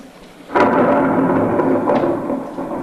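A thunderstorm sound effect in a stage play of The Mystery of Edwin Drood breaks into a loud, sudden rumble of thunder that rolls on steadily with a second swell before slowly fading.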